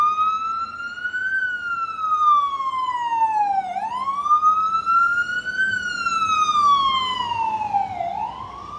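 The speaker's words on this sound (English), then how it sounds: "let the ambulance go by" An ambulance siren wails loudly and continuously, rising and falling in slow sweeps as it passes close by.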